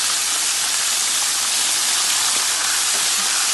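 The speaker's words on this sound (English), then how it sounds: "I'm going to flip it over so it's a fry on the other side" Fish fries in hot oil after being flipped, a loud, dense, continuous sizzle with no pauses and no voices.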